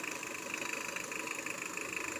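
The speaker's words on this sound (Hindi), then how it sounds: "तो ये डीजल इंजन है, स्टार्ट की एक छोटा सा क्लिप है।" A 2002 Kia Sportage turbo diesel engine, in its original factory form, runs at a steady idle, a close and even mechanical clatter that continues without a break.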